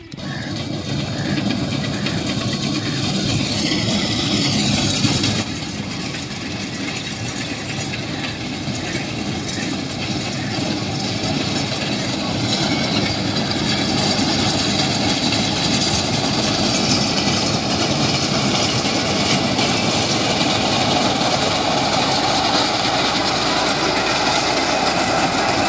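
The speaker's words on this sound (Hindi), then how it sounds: "ट्रैक्टर माउंटेड जो रिपर मशीन होती है उससे हम इसको काटते हैं।" A tractor-mounted reaper cutting a pearl millet crop in the field, giving a loud, steady engine drone with a continuous mechanical rumble and clatter throughout, no talk.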